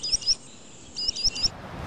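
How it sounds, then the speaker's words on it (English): Spotted sandpiper calling near a Vermont loon nesting lake, two quick bursts of high, thin peeping notes, fairly close and clear over a soft outdoor background. "It's a spotted sandpiper."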